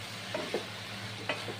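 Carrot halwa with cashews is stirred in a pan, with a faint low hiss of cooking under a few soft scrapes of the spoon, quiet and brief.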